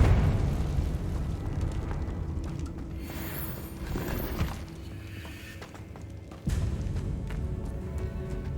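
Confringo fire spell blast in Hogwarts Legacy, a deep rumbling explosive burst with a low boom, followed by crackling debris and a second heavy impact near the end.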